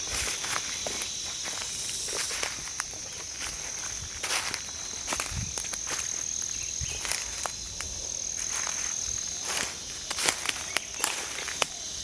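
Footsteps crunch and rustle steadily through dry forest litter, close and in an uneven rhythm, with a constant high chorus of crickets and insects behind them.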